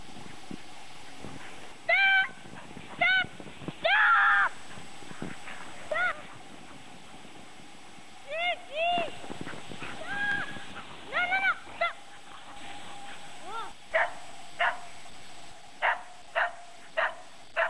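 Samoyed sled dogs waiting at the start of a ski joering run in snow, giving short high whimpers and yelps in scattered bursts, some close and some further off, over a quiet outdoor background.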